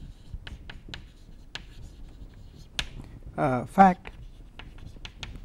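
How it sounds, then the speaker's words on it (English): Handwriting during a maths lecture, with faint, sparse scratches and taps spread through the clip, close by and briefly interrupted by someone speaking. "so let me write that"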